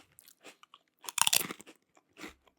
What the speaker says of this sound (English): I'll show you a good crunch.